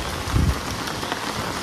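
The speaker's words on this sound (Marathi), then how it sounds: "पाऊस पडतोय" Steady rain falling outdoors in the Konkan region, a dense even hiss of drops hitting surfaces, with a brief low rumble near the start and no speech.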